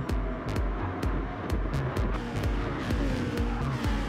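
Race cars in a racing video game feature race on a Kyoto track, their engines droning steadily with rhythmic revving pulses as they jostle through corners, loud and continuous throughout.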